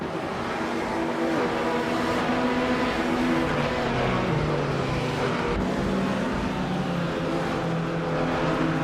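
Race car engine of a 1957 Ferrari 250 Testarossa in a racing video game, a steady loud drone with layered harmonic whine and shifting pitch, continuous with other cars around, no talk.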